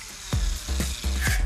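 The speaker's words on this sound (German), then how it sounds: "Für die Griffe markiert ihr die Bohrlöcher im oberen Drittel mittig, dann bohrt ihr." A power drill bores handle holes in a homemade wooden box. It gives three or four short, close, whirring bursts in quick succession, with no talking over them.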